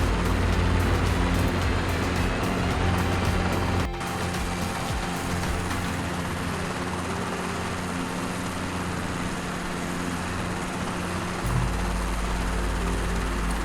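Robinson R22 helicopter in Microsoft Flight Simulator, a steady loud engine drone and rotor thrum with rapid blade chop, holding constant throughout with a slight shift in pitch and no talk.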